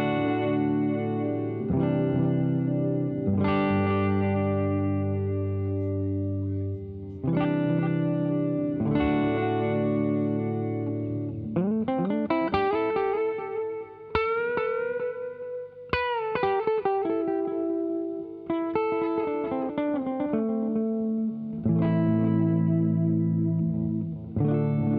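Gretsch G5120 hollowbody electric guitar run through a longer echo effect, strummed chords and single-note runs repeating and trailing off, loud and close with no voices, notes smearing into shimmering repeats through the middle.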